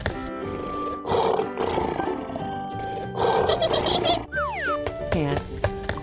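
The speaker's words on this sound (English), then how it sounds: "Lion." A cartoonish lion roar in two loud rumbling bursts, followed by quick sliding whistle-like effects and tonal backing notes.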